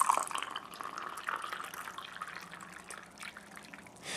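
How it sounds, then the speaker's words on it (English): Water is poured into a cup of organic matcha green tea powder, giving a soft, continuous trickling and splashing that fades gently over a few seconds, close and quiet, with no talk. "And then I'll pour the water in."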